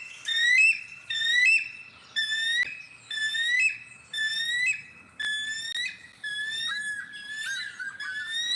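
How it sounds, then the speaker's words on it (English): Recorded bald eagle calls play loud and clear as a series of about eight high, whistled, chattering phrases, each a rapid run of piping notes separated by brief pauses. "these are all bald eagles I'm playing right now"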